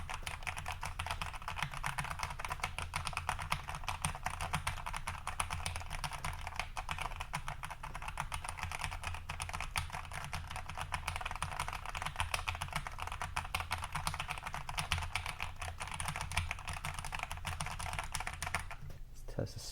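Continuous rapid clacking of a Keychron K8 Pro mechanical keyboard as its main alphanumeric keys are typed on, dense and steady keystrokes close up over a low background hum, with no talking.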